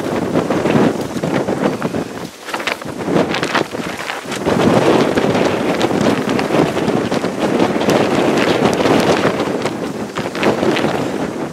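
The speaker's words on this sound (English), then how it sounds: "Still windy" Strong gusty wind in Alaskan hunting country buffets the microphone, roaring and rumbling continuously with surges and brief lulls.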